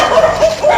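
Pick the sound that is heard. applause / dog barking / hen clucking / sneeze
dog barking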